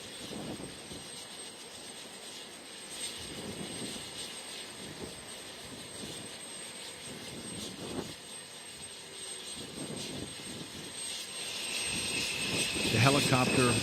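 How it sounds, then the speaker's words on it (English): A steady broadband engine roar with rotor-like throbbing holds throughout, swelling louder near the end as the aircraft draws closer overhead. "Helicopter"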